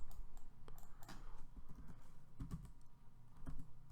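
Fingers tap a computer keyboard in quick, uneven clusters of soft clicks, close and quiet, with no one speaking.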